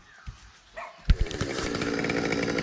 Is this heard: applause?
no